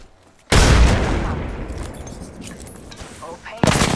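Loud Apex Legends gunfire erupts abruptly after a quiet start, a dense sustained burst of shots that slowly fades, then a second sharp volley near the end.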